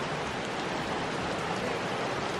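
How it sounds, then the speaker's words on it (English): Heavy rain pouring down in Bohol, a steady, dense hiss of downpour that stays even and unbroken throughout, with no talking over it. "It's pouring rain."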